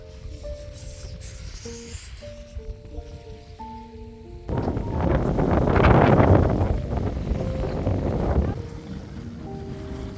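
Wind blows at an island beach campsite at Hudayriyat in Abu Dhabi, a loud gusty rush buffeting the microphone for several seconds after calmer moments with faint tonal music in the background.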